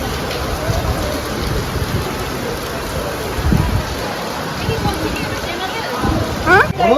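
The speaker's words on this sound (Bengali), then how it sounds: "প্রচন্ড হারে বৃষ্টি পড়ছে" Heavy rain pours down at a railway station as a loud, dense roar, with rumbling gusts and indistinct voices faintly underneath.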